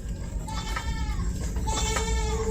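Goats bleating in a farmyard, several wavering calls at close range over steady background noise, with no talk.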